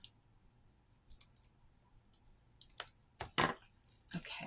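Scissors cutting grosgrain ribbons at a crafting table: a series of quiet, irregular snips and small clicks, close by, with soft handling noises in between and no talking.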